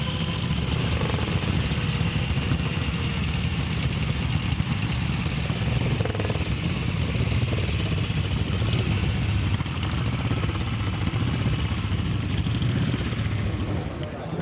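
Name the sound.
Gold Star racing motorcycle engine, Walt Handley Empire Star recreation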